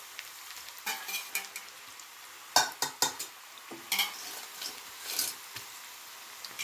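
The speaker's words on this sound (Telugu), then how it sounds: "మీడియం ఫ్లేమ్ మీద వేయించుకోవాలి పకోడీని" Potato bajji pakodas deep fry in oil on a medium flame, with a soft bubbling hiss broken by repeated sharp stirring and scraping clatters at an irregular pace.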